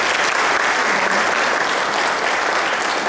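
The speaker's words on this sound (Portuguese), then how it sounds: "Então, agradecer e palmas para eles também." Audience applause for speakers at a talk, a dense, steady burst of many hands clapping that fills the room at even loudness throughout.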